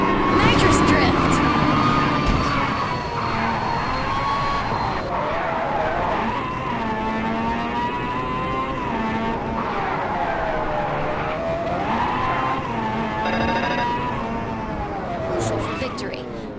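A race car in Ridge Racer 7 on PS3 drifts under nitrous, tires squealing in long wavering screeches over a loud engine drone, with game voice announcements over the top.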